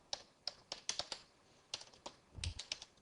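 Typing on a computer keyboard at a desk while coding, a burst of sharp close key clicks in an uneven rhythm, a short pause, then another quick run of keystrokes, no talking.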